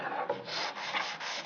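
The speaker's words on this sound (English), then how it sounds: "I don't mind sawing, but I hate sanding." Steady rasping scrape of sandpaper worked back and forth over wood, continuous strokes with slight surges, close and fairly loud, no voices.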